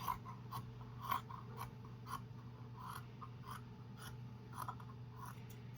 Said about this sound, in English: I'm just cutting some excess fabric off